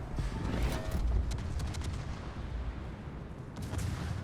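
Heavy battleship guns fire at the New York in a naval warfare game, a deep sustained boom and rumble filling the moment with little else audible.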